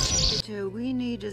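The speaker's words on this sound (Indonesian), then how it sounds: "Clad dan yang lainnya dilatih sama Nira nih buat nangkap burung pipit yang berusaha kabur" A sparrow in an animated film of the Legend of the Guardians owl story gives a short chirp after a burst of noise, thin and close, lasting about a second.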